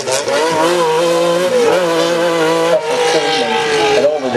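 An Austin Rover rally car with a 3-litre 90-degree V6 engine of 410 brake horsepower revs loudly and continuously, its engine note rising and falling. The car is heard up close with no talk over it.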